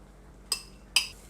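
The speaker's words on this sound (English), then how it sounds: "Stir that in there." A spoon clinks twice against a dish while stirring beaten eggs into a broccoli casserole mixture with butter and mayonnaise, two crisp separate taps over quiet.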